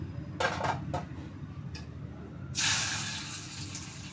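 Hot oil tempering poured into freshly made mango pickle, with a few clinks of a metal pan and spoon followed by a sudden close sizzle that fades slowly.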